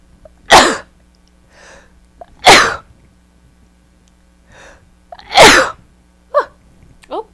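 Three loud sneezes burst out one after another about two seconds apart, close and sharp, with a couple of quieter breathy sounds following and no talk in between.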